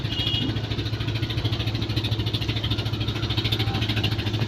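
An engine-powered trawler boat on the Shitalakshya river at a busy ferry ghat chugs with a continuous rhythmic diesel thrum, close and steady throughout.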